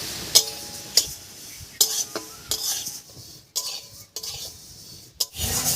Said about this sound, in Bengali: ডালটা বেশ একটু লাল করেই ভেজে নেব